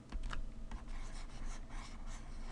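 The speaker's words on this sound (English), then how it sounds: "so let me erase this part" Rapid scratchy rubbing of an eraser across a writing board during a math lesson, a quiet, close, continuous scrubbing with short strokes and no talking.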